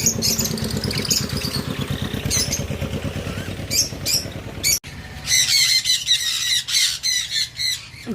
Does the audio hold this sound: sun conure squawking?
yes